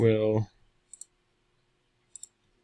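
A computer mouse gives two quick double-clicks, sharp and close in a quiet room. They come just after a brief spoken phrase.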